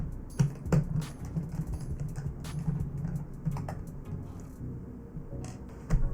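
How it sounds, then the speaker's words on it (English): Small Torx screws are worked out of a PS4 case, making soft scattered clicks and taps up close, with a couple of sharper knocks as parts are handled. "remove the Torx screws that are holding this case in place. Now we'll just set these screws off to the side."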